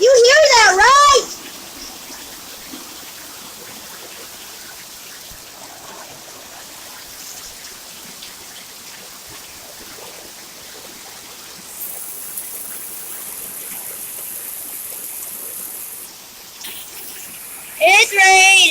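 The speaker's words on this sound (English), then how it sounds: "You can't even see the rain on the camera. That's how much it's raining." Heavy pouring rain makes a steady, moderate rushing wash that runs through most of the stretch, with bright tonal chirps at the start and end and a brief higher hiss partway through.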